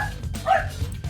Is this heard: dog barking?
yes